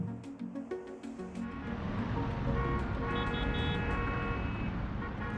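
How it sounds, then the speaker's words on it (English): Busy county road traffic with engines humming steadily and scattered car horns honking, a dense continuous roar that swells and holds throughout. "Honks echo and engines hum, capturing the urgency of a growing county perpetually in motion."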